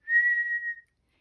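One clear whistled tone from a person, a single steady note held a little under a second, alone and fairly close.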